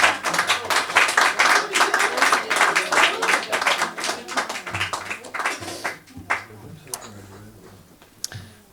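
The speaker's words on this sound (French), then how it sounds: "Vous pouvez vous applaudir." Audience at an art exhibition evening applauds, a dense burst of clapping that thins out into a few scattered claps near the end.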